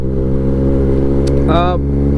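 A Triumph road motorcycle engine drones steadily and loudly while riding, with a low rumbling hum throughout and a brief voice speaking over it partway through.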